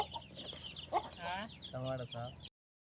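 A broody hen clucks in short, repeated bursts close by, then the sound cuts off abruptly.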